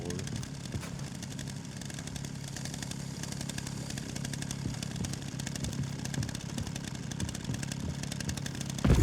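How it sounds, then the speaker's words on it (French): A chainsaw in the Resident Evil 9 Requiem video game buzzes steadily for the whole stretch, a rough, continuous engine drone at moderate level mixed with game ambience. "le gars il se fait embarquer par la tronçonneuse"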